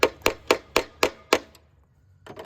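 Six sharp hammer blows strike in a steady rhythm during restoration work on a 1956 Fedders Weather Bureau air conditioner, then a pause before fainter knocks.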